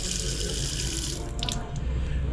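A kitchen faucet runs with good water pressure, a steady, loud rush of water splashing into a sink, continuous throughout with no talking.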